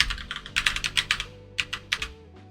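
Fingers typing network subnet addresses on a computer keyboard, a quick run of close, crisp key clicks in uneven bursts with short pauses between them.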